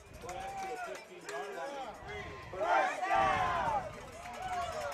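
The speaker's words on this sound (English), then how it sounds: "Enthusiastic crowd here on the sidelines at Placer High School, being treated to a great football game tonight" Enthusiastic crowd along the sidelines at a night high school football game at Placer High School, Placer Hillmen vs Lincoln Zebras; loud cheering and shouting that swells midway, heard together with nearby talk and babble.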